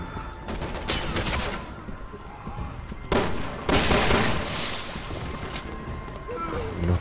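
Gunfire in the Resident Evil 6 video game: sharp, loud shot bursts over a dense, noisy game soundscape, with a few heavier blasts standing out partway through.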